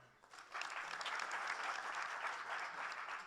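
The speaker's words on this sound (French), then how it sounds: "On les applaudit encore." Audience at a tech conference on Africa applauding, starting softly then swelling quickly into sustained, even clapping that continues to the end.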